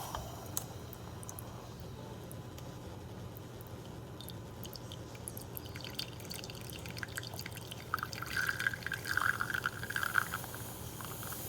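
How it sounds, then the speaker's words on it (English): An espresso shot pours from a Staccato espresso machine as a faint, steady trickle and drip over a low hum. The flow grows a little livelier toward the end. "Let's pull the shot."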